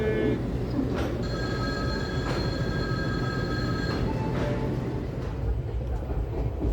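The Koyna Express from Mumbai to Kolhapur rolls out of Pune Junction, heard from on board as a steady rumble of wheels on rails. High metallic squeals ring through it, and faint voices sit in the background.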